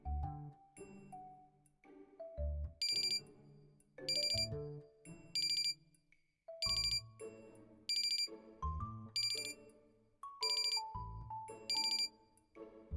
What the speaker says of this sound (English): Oh, that's an alarm I set.